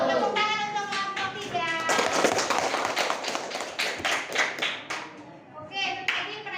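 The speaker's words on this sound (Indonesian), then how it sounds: "Tepuk tangan untuk kelompok" A primary school class claps for a group of pupils after their narrative-writing presentation, a burst of dense, lively applause from many small hands nearby that thins into scattered claps, with children's voices mixed in.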